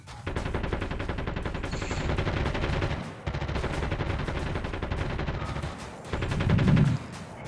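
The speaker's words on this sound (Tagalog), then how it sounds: "Nagbabarilan dun." Sustained rapid gunfire in Call of Duty Mobile, a dense automatic rattle of shots running almost unbroken with a brief pause midway, moderately loud and heard without talk.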